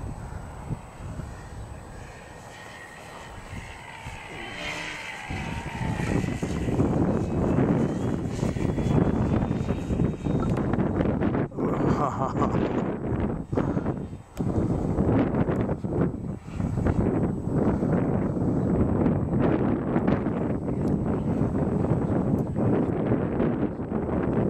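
Strong, steady wind buffets the microphone at a model airplane flying field, a loud continuous roar with gusty swells that rise after the first few seconds and stay heavy throughout.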